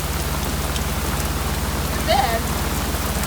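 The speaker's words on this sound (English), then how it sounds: "It feels quite good to be drenched in a tropical downpour, and Tarka appreciates it too" Heavy tropical downpour drums steadily on a sailboat at sea, a loud, continuous hiss of rain from start to finish, with a low rhythmic engine-like thrum beneath and a brief voice cutting in near the end.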